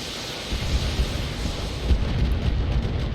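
Long range missiles striking a target in the mech combat video game Battletech, heard as a continuous rumbling barrage of low booming impacts that swells and rolls on throughout, with no voices over it.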